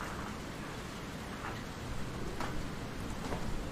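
Steady rain in the video game Swallow, a constant broadband wash of falling water with a few faint brief drips or ticks, no voices.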